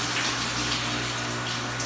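Water rushes steadily through a water station pump machine, a constant gushing hiss over a low steady motor hum, close and continuous with no talking.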